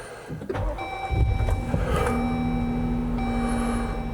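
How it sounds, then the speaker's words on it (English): A Jeep Gladiator turns over and catches, with a brief starter crank followed by a steady engine idle and electronic tones, heard from inside the cab. "Let's turn the car on."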